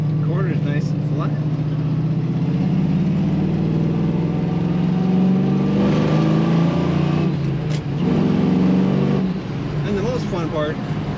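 The V8 engine of a black 1978 Chevrolet Camaro Z28 gives a deep, steady rumble, loud and close throughout, rising slightly in pitch as it revs gently before settling back.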